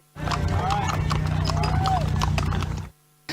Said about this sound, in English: voters arrived by horseback at a polling station in Houston